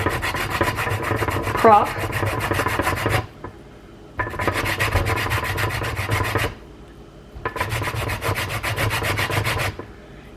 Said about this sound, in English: I'm going to zest this little orange, this little mandarin orange, right over top of the